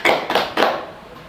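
Three or four sharp group claps in quick succession from students playing a counting clap game in a group counseling session, close and fairly loud, then a fading room tail.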